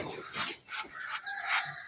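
Chickens on a backyard farm give repeated clucking and crowing-like calls, moderately loud and fairly close, with a few short bursts of bird noise in a quiet setting.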